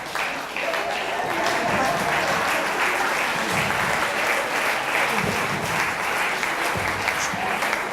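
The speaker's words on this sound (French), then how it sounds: "On peut applaudir Gigi." An audience at a show applauds loudly and steadily, a continuous wash of clapping lasting the whole stretch.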